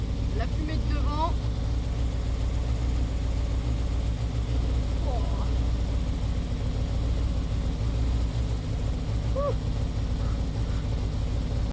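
A Renault Kangoo engine runs rough and low with almost no idle, a steady rumbling drone throughout, with brief faint squeaks and other sounds on top.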